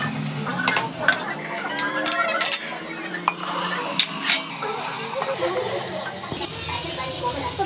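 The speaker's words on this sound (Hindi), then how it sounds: "तो अब सब फ्राई होगा" Chopped onions frying in a pan for a mutton dish, giving a steady hiss and sizzle with frequent scraping and clinking of a utensil stirring, close and fairly loud, with no talk.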